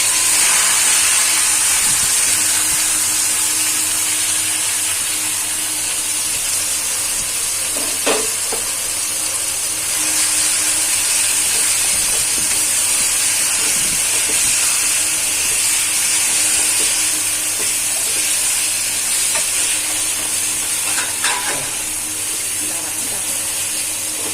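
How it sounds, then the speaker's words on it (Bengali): Marinated desi chicken lands in hot oil with browned onions and sizzles loudly, a dense, steady frying crackle with occasional sharper pops and stirring scrapes, running on without talk. "এখন 1 ঘন্টা মাখা মাংসগুলো তেলের উপর ছেড়ে দিলাম"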